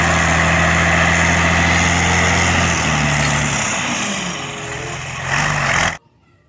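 Toy sand truck engine whirring in a steady, loud drone with a slight dip in pitch toward the end before stopping abruptly; no speech alongside.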